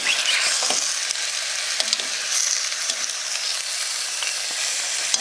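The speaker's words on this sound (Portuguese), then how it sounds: "Aqui na carne você colocou um pouco de óleo, né? Ela tem que ficar bem moreninha" Meat browning in oil in a pan, a steady bright sizzle with crackles and a few soft stirring knocks, heard close and alone without any talk.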